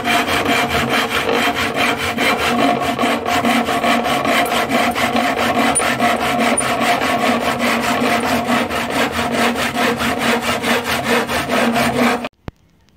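Plywood being sawn into wall panels for a 1/32 scale model dealership building, a close, loud, continuous rasping of rapid strokes that stops abruptly near the end.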